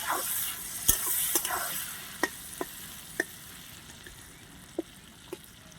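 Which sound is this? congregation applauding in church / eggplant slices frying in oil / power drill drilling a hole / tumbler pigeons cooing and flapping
eggplant slices frying in oil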